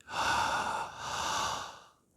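A deep, long inhale through a wide-open mouth during a yoga wake-up stretch, a close, breathy rush lasting about two seconds and then fading, with no talking.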